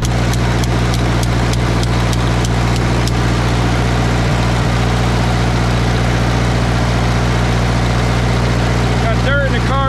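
A John Deere 1010 bulldozer engine with dirt in its carburetor runs rough: a loud, steady low drone with irregular ticks and knocks, denser in the first few seconds.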